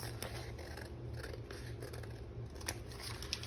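Scissors snipping through paper while trimming a digital junk journal page, a close, steady run of crisp rasping cuts with small crunches throughout.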